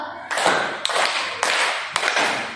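Students in a classroom clap together in a counting rhythm game, producing four loud unison claps spaced evenly, each a sharp crack with a short decaying tail of scattered hands.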